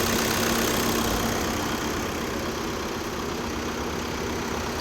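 A 2017 Volkswagen Vento Highline Plus engine idles steadily with a smooth, even hum and no talking, heard close and constant throughout.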